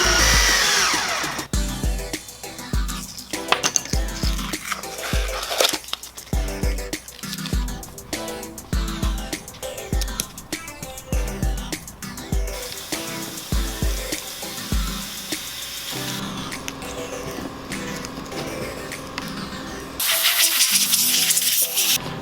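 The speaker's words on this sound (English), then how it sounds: "We're going to use a drill bit that has threads on it so that they'll thread in place." A power drill fitted with a threaded bit drives M6 Allen screws while a Ford F150 door is fitted for a car stereo, running in short, loud, repeated whirring bursts separated by pauses, with a longer steady run near the end.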